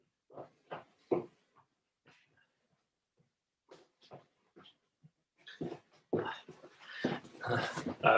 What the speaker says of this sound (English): I have to kick out my dog from here because it's making noise